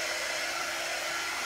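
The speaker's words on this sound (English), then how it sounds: "So I'm drying my Mod Podge." Hair dryer blowing steadily at close range to dry Mod Podge glue on a ribbon plate craft, a continuous loud broadband whoosh with no breaks.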